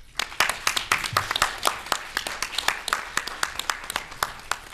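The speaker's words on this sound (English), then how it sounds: "Please give these panelists another round of applause" An audience applauds panelists at the close of a panel discussion, with sharp, fairly sparse individual hand claps from a modest crowd, close and steady for several seconds.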